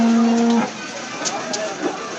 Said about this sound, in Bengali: তো বড় সাইজের গরু।